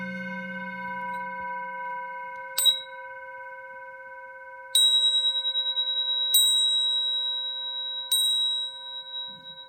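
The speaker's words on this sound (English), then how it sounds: "I'm going to ring the bell one more time." A bell is struck four times at spaced intervals, each strike ringing out clearly and sustaining over a faint steady background tone with no talk.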